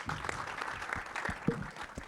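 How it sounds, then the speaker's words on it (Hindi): An audience at a film trailer launch event claps, a moderate, steady patter of hands that runs throughout under a faint hum of voices. "एक बार जोरदार ताली होनी चाहिए"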